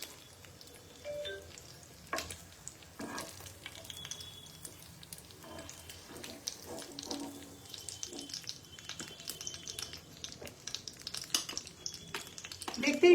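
Oil sizzles as kofta fry for a paneer kofta curry: a soft, crackling hiss with sporadic sharp pops and stirring clinks, rising somewhat louder toward the end.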